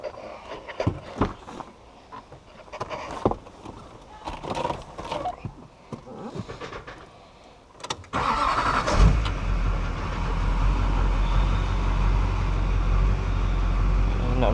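An LLY Duramax diesel pickup engine is cranked during an injector clean and fuel filter change; sparse clicks and handling noises come first, then the engine fires up and settles into a loud, steady running drone.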